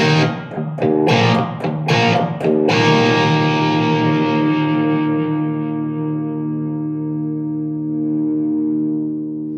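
A Blackstar ID Core Stereo 10 V3 amp on a high-gain distortion setting: a heavily distorted electric guitar strums a few gritty chords, then lets one crunchy, saturated chord ring out and slowly fade.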